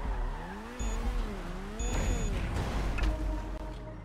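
Video game car engine revving with rising and falling pitch, followed by tire squeal and skidding sounds, loud and close with electronic game effects on top.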